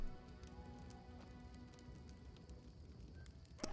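Steady rainfall patters on surfaces in the Pathfinder Kingmaker role-playing game, a soft, even hiss of drops with faint scattered taps throughout.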